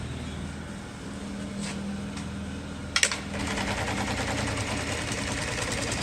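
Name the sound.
LK1920HA industrial sewing machine sewing a leather tab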